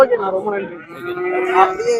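A buffalo at the Manapparai cattle market gives a long, loud, close moo that wavers in pitch over about two seconds, with market noise around it.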